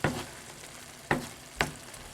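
A vegan aubergine and kale curry being stirred in a pan, with a soft continuous sizzle broken by three sharp scraping strokes of the spoon, close and quiet with no talking.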